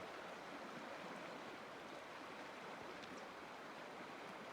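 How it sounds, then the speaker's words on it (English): Water of a river rushes and flows steadily, a broad continuous hiss with no pauses, fairly faint and unbroken throughout. "Our first look at the river."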